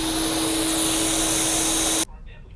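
An 8-gallon vacuum with a two-stage motor runs loud and steady with a high whine, then cuts off abruptly, leaving a quiet room.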